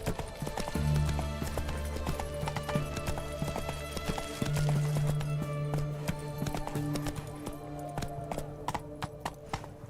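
Roach the horse galloping in The Witcher 3, a quick, continuous drum of hoofbeats close up, layered over game music with sustained tones, running for the full stretch.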